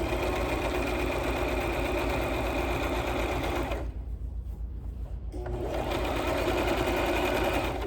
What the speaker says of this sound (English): We're going to sew forward. Reverse a few. And then keep sewing forward.